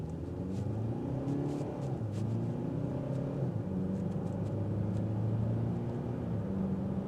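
A 2025 Kia K5 in sport mode pulls away from a stop, its engine rumbling low and steady from inside the cabin, with the pitch shifting as it picks up speed and no one speaking.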